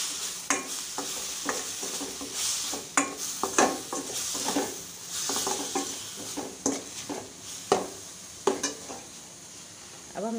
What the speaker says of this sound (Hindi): टेस्ट अकॉर्डिंग नमक, रेड चिली पाउडर, अच्छे से मिक्स करना है।